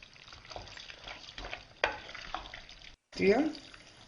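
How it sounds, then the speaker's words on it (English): Chopped vegetables for a ragù bolognese sizzle softly in a pan while being stirred, with scraping strokes and a few sharper utensil knocks, fairly quiet and close. "First, brown the vegetables. Fry slightly, 3 minutes, and stir"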